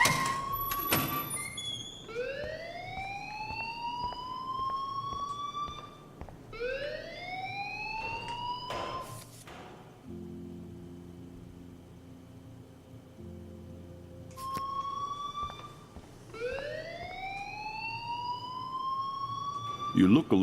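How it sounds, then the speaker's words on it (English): An alarm in the Life Is Strange video game wails in repeated rising whoops, several bursts separated by short pauses, with a low hum filling the gap in the middle. "please turn off that alarm since that's your job"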